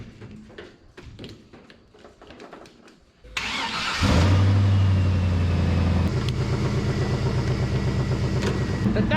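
A 1968 IH Travelall with a blown-out muffler: some tapping and clatter, then the engine cranks and catches and settles into a loud, raw, rumbling idle with slight revving that continues close up.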